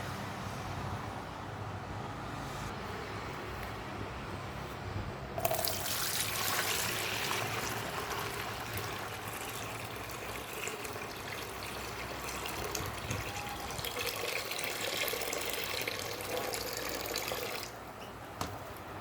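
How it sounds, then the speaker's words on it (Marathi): Water pours steadily into a bucket, a continuous splashing rush lasting about twelve seconds before it cuts off abruptly. "यातलं मी पाणी हे काढून घेणार आहे एका बादलीत"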